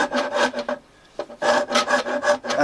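A Nicholson metal-cutting rasp, made in Canada, files the wooden body of a bass guitar in quick rhythmic rasping strokes, each a harsh scrape, with a brief pause midway, close and loud.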